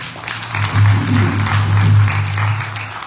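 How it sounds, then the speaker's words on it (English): An audience at a Hindu temple satsang in Guyana claps steadily for a few seconds, a dense patter of hands over a low persistent hum. "my dear brother Pandit Devadachi, please give him a round of applause"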